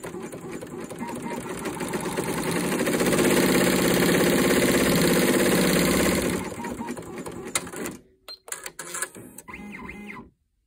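An embroidery machine stitches a pendant design onto a sweater, a steady loud mechanical whir and rapid needle chatter that runs continuously, then drops off to intermittent clicks and stops near the end.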